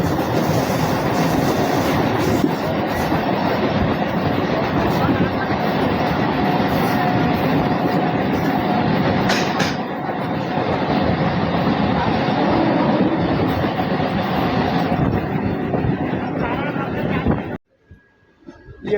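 The 22845 Pune–Hatia Superfast Express passes during a crossing: a loud, close, continuous roar of rail wheels with clickety-clack runs without a break and cuts off abruptly near the end.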